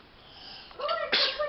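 A person sneezes once indoors, a short sharp burst after a brief inhale, heard close and fairly loud over background household sounds.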